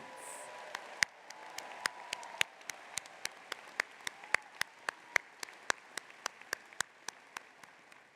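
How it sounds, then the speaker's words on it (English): Applause at a university spring commencement ceremony for graduates, heard as crisp, evenly spaced individual claps standing out over a faint, hushed crowd background. "one last big round of applause for all of these graduates and their achievements"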